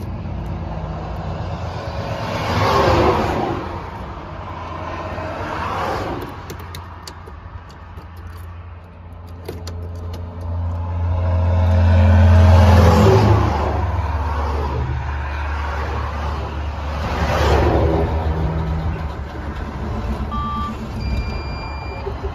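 A recovery truck's engine runs and revs in repeated loud swells over a steady idle, with a reversing beeper sounding throughout.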